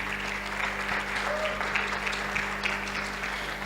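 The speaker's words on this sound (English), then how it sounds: "Could we welcome them with a round of applause, please, as they come?" Steady audience applause fills a hall at a media festival, a continuous wash of clapping at moderate volume with a faint voice beneath it, holding evenly throughout.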